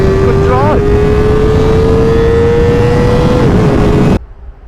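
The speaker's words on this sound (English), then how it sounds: "riding Kawasaki's new ZX-4RR" Kawasaki ZX-4RR sport bike ridden hard around a race track, its high-revving four-cylinder engine screaming loud and steady near the limiter, a brief gear-change dip early on, then cutting abruptly near the end.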